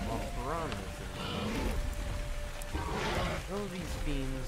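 Rain falling in the dinosaur survival game ARK, a soft continuous patter on surfaces heard beneath steady narration.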